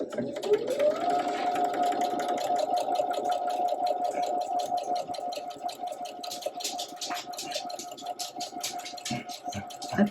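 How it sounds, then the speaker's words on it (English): A sewing machine stitches seams on quilt fabric, a steady close whirring hum that spins up quickly and runs continuously with rapid rattling needle clatter, ending in a few clicks. "Okay, Zoe, let me get 3 more seams in and we can go outside"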